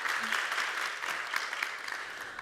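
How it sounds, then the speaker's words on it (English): Moderate audience applause at a transport innovation talks session as speakers are welcomed, continuous clapping with a few sharper individual claps standing out. "I hope you give them all a warm welcome and a round of applause."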